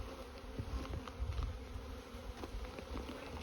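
Honey bees hum in a dense, steady drone around an open hive while it is being inspected and a honey super added, with no talk over the close, continuous buzzing.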